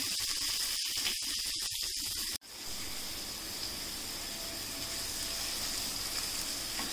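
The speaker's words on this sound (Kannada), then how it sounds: "ಆಮೇಲೆ ಹೆಚ್ಚಿದ ಈರುಳ್ಳಿ, ಒಂದು ನಿಮಿಷ ಆಗಲಿ." Chopped onions sizzle in hot oil in a pan, added after garlic while cooking dal, a steady close hiss of frying that swells after a short thump partway through.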